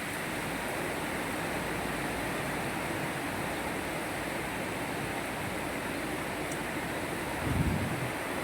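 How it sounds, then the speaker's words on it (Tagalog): Steady, roaring wind noise buffeting the microphone throughout, with a low rumbling gust near the end; no voices. "Bigla na lang uulan. Mahangin pala."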